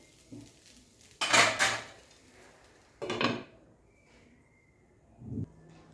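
Poha being stirred in a pan with salt, a Maharashtrian kanda poha breakfast: two loud bursts of scraping and clinking from a spoon against the pan, with a softer scrape near the end and quiet gaps between.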